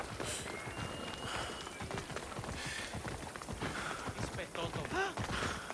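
Hooves clop at a steady run from a horse in the game Assassin's Creed Odyssey, heard under game ambience and a few chime-like effects throughout.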